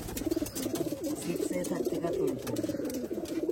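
Old Rajshahi Girbaj pigeons coo steadily and close by, their soft, throaty calls overlapping in a continuous, rolling murmur with no pause.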